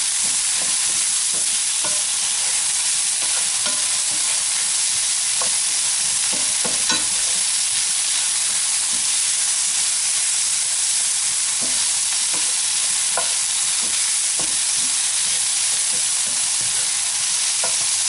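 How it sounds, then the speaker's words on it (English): Courgettes and amba spices fry and get stirred around in a pan, giving a steady close sizzle broken by scattered clinks and scrapes of the stirring utensil throughout. "Just frying everything around."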